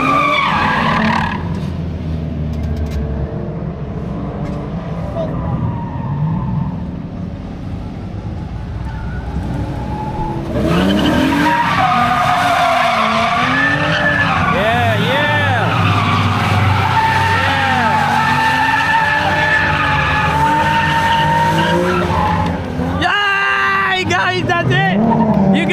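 Drift cars, including an FRS, slide past at a drift day with long, loud tire squeals and skidding over engine roar, rising midway and continuing as people talk close by.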